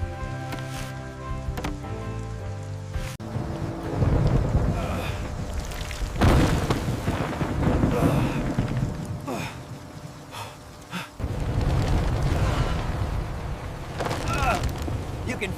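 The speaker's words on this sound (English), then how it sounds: "As you can see, the storm is intense" A fierce thunderstorm batters a Lego-framed shelter with natural thatch in the wild: a steady roar of rain and wind with deep rumbling booms of thunder swelling and fading throughout, loud and close.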